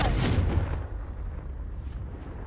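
Hogwarts Legacy Confringo blasting curse going off as a loud, bright burst of explosion that cuts sharply after about three-quarters of a second, leaving a low rumbling tail.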